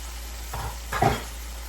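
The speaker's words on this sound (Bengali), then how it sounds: "একটু ভালো মতো মশলাটাকে কষে নিই" Spice paste for a fish curry with new potatoes and peas sizzles steadily in a pan, with two brief scraping stirs near the middle.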